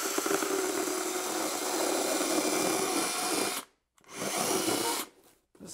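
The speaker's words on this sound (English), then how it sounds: "Bone saw." A bone saw, said to date from the 1800s, rasps steadily through its cut for nearly four seconds. It pauses briefly, then resumes for another stretch before stopping again.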